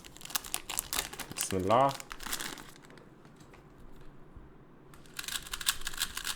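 Plastic packaging of a GAN356 i3 smart Bluetooth puzzle cube crinkles and crackles in short bursts near the start and again toward the end, close and fairly loud, with someone speaking briefly over it.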